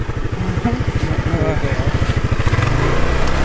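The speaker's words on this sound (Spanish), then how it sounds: "La moto no puede subir, dos personas de 80 kilos" A motorbike carrying two people of about 80 kilos each strains uphill in Bali, its engine chugging in a rapid, uneven pulse, sounding labored and close, with a voice briefly audible over it.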